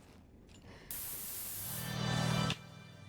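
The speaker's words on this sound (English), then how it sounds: "Have a little herb spray." A herb spray used in Resident Evil gives a steady hiss of aerosol that rises over about a second and a half and then cuts off sharply, over a soft background hum.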